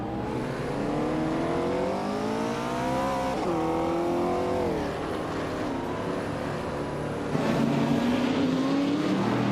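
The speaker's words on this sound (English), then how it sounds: "Zadamo Gigemes is driving a 1961 MGA Sprint, a classic British roadster" Engine of a 1961 MGA Sprint, a classic British roadster, in a racing video game, droning steadily with pitch rising and falling through gear changes, loud and continuous with no talk over it.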